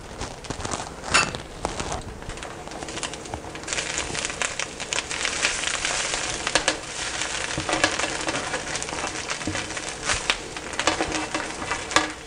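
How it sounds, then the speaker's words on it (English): Egg fried rice sizzles and crackles steadily in a hot pan, with scattered scraping and stirring clicks layered over the constant frying hiss. "Now we're going to go ahead and add our fried rice into this."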